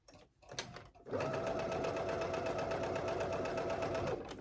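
A sewing machine runs on knit fabric for a tank top: some handling rustle and clicks, then a loud, close, steady motor hum with fast needle rattle that holds for about three seconds before easing off.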